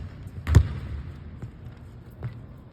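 A basketball bounces on an outdoor court after a mid-range shot, one solid thud followed by two fainter, more distant bounces spaced about a second apart.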